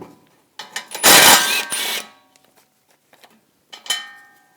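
A 10mm socket wrench removes bolts on the splash shield of a 2014-2018 GMC Sierra. Close metallic clicks give way to a loud burst of ratcheting, then a few scattered taps and one final short ratchet.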